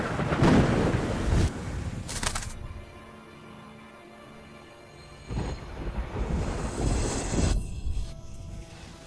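A thunderstorm with rain: heavy bursts of rolling thunder rise and fade over a constant hiss of falling rain, with a quieter lull between the loud crashes.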